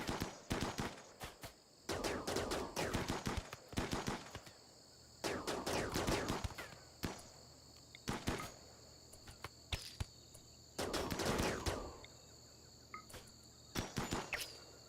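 Bursts of RimWorld gunfire crackle in rapid volleys, several clusters of quick shots spaced a second or two apart. A steady insect-like buzz hums underneath.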